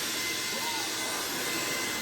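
AlloyMove cordless vacuum cleaner picking up hair from the floor, running with a loud, steady whooshing roar close by, with no change through the short stretch.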